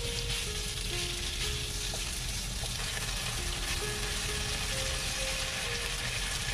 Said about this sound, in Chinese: 煸炒两分钟。